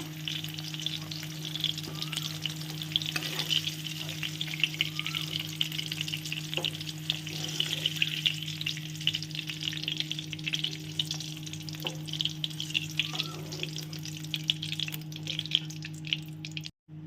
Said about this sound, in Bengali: আলুগুলো কিন্তু আমি সুন্দর করে ভেজে নিয়েছি। এবার এগুলোকে তুলে নেওয়ার পালা।